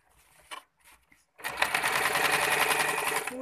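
A sewing machine stitches a lungi, opening with a few faint clicks and taps before breaking into a loud, steady run of rapid stitching that carries on to the end.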